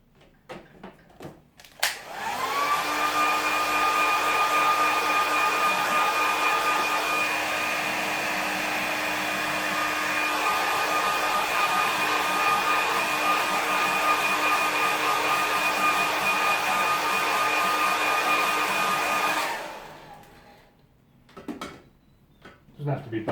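Hair dryer blowing on watercolour paper, a loud steady whine and rushing air that starts abruptly, holds for about seventeen seconds, then cuts off, with faint handling noises before and after.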